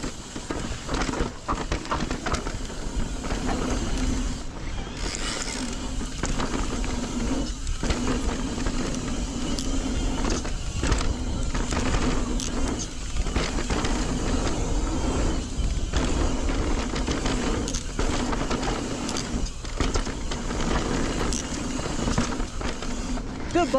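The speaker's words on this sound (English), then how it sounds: "That punchiness of the Bosch motor gets me over the obstacles pretty good." An Orbea Wild M20 electric mountain bike with a Bosch motor rides a fast trail through berms and over obstacles, producing continuous loud rumbling, rattling and wind noise with bursts of effort, while a rider calls out over it.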